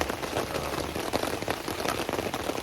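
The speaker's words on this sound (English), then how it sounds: "as you can hear, it's raining" Rain falls steadily on a campsite along the Appalachian Trail, a dense close patter of drops striking surfaces with no talking.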